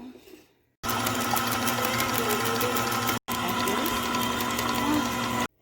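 Butter, brown sugar and white sugar are creamed for cookie dough with an electric mixer. It whirs in a steady, loud, close mechanical drone that cuts out briefly once and then resumes.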